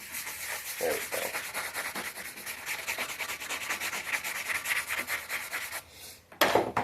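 Steady rhythmic rasping strokes of sandpaper on a blacksmith's hammer head, close and continuous, with a brief pause before the scraping resumes louder.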